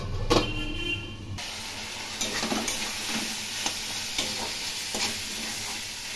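Rohu fish curry with potato and pointed gourd sautéing in a pan, a steady close sizzle with occasional stirring scrapes and clinks throughout.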